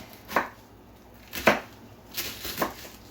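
A sharpened knife chops fresh cabbage on a board, four soft crunching strokes spaced unevenly and close by, with quiet pauses between and no talking.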